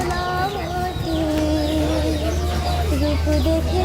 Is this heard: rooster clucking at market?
yes